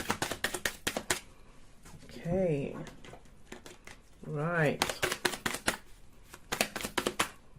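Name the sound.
shuffling tarot cards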